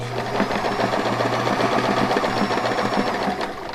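Sewing machine stitching over the edge of a fabric toe cover, a steady, close, fast mechanical whirring hum with rapid needle clatter, running continuously with no talk.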